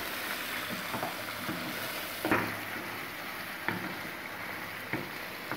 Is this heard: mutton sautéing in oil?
yes